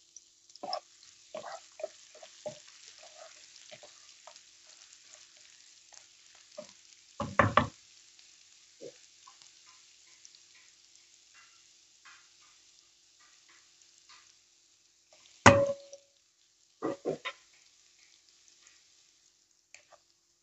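Onions softening in a pan, a faint, steady sizzle of oil throughout, broken by a few loud knocks and scrapes of utensils against the pan.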